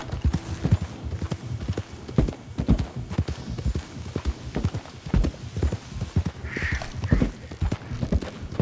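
A horse's hooves clip-clop in a steady, close rhythm through swampy terrain in the Red Dead Redemption 2 game, with a brief whinny partway through.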